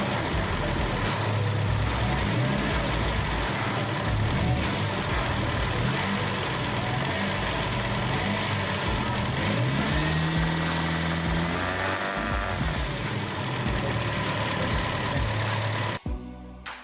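A Toyota Kijang petrol engine on a tune-up bench, vacuum hose connected, is revved with the gas pedal: a loud continuous engine drone with rising and falling pitch swings, close by throughout, cutting off at the very end.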